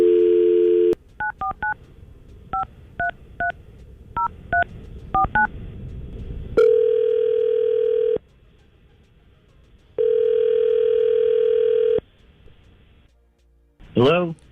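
A telephone call placed on a radio show: a steady dial tone, then a quick series of touch-tone dialing beeps, followed by two long ringback tones with a pause between and a brief tone at the end.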